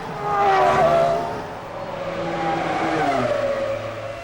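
Formula 1 cars from the 2000 season racing on track, engines whining loudly as they pass with rising and falling pitch, several cars overlapping over a few seconds.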